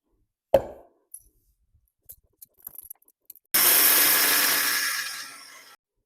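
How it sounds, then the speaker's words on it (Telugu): A grinder works damp soaked-rice flour for ariselu: a few sharp clinks and taps, then a loud, harsh whirring burst lasting about two seconds that fades away. "ఇప్పుడు గ్రైండర్ పడదాము"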